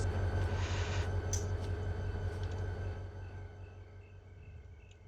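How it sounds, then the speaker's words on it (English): Steady low rumble of an idling locomotive in the Run 8 train simulator game, close and continuous, with a brief higher hiss early on and the drone fading slightly toward the end. "We're gonna wait for locomotive."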